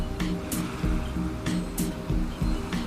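Ocean surf washing in and out on a sandy nesting beach, a steady low roar of breaking swell with repeated hissing wash surges, moderately loud and free of voices.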